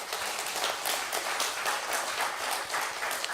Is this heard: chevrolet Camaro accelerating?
no